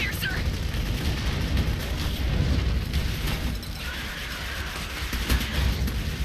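Explosive rounds are fired in the video game Clive Barker's Jericho, setting off booming blasts and bursts over a dense battle din, while a player talks over the action.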